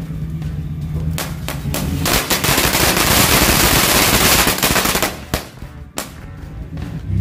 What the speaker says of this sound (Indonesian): Lihat air mancurnya sangat mantap banget